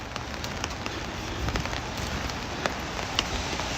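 Rain falls steadily on a cold outdoor walk, a constant close hiss of drops with a few sharper taps now and then, no voices.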